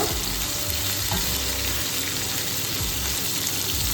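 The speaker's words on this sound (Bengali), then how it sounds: "আলু ফুলকপি ভাজা হয়ে গেছে," Potatoes and cauliflower fry in oil in a pan for a Bengali fish curry, giving a steady, loud sizzle with occasional stirring scrapes throughout, no voices.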